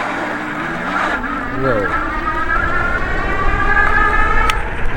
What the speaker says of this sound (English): I'm gonna hit both throttles off the line.